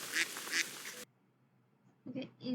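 Duck quack sound effect, two loud clear quacks, a pause of near silence, then two more quieter quacks.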